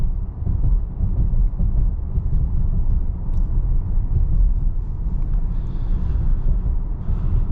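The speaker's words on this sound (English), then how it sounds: "this 2-liter turbocharged engine does provide enough power for this car" A 2025 VW Atlas Cross Sport R-Line with a 2-liter turbocharged engine cruises along, heard from inside as a steady low engine and road rumble with no talking.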